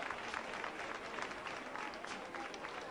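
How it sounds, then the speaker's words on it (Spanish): A crowd applauds along a street during the Gran Poder Holy Week procession in Los Palacios, 2019: a continuous, dense patter of many hands, fairly quiet and somewhat distant, with faint voices mixed in. "Aplausos."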